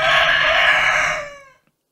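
A rooster crows once, loud and close, a long bright call that holds steady and then fades out into silence.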